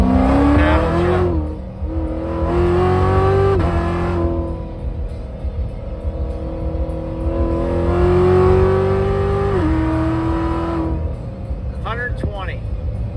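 A car with an 8-speed automatic and paddle shifters accelerates hard through the gears. Loud engine pitch climbs steadily, then drops sharply at each upshift, with heavy road and wind roar underneath.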